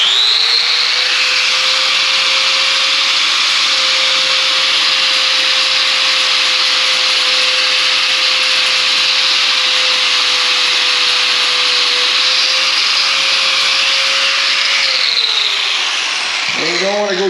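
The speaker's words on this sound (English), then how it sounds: "So we're going to start off by trimming off the ripples." A power tool whines steadily and loudly for about fifteen seconds while trimming ripples off a plastic part from a BOV recirculating kit for a Can-Am Maverick X3, then spins down at the end.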